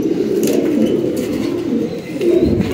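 Rampuri pigeons, a large-headed, heat-tolerant breed, coo steadily in a low continuous murmur, several birds close by with overlapping rolling calls and no talk.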